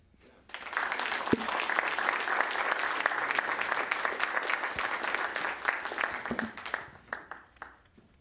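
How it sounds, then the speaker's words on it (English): A crowd at a city board of commissioners meeting in Owensboro applauds for about six seconds, with steady moderate clapping that starts abruptly and tapers off into scattered claps. "Clap."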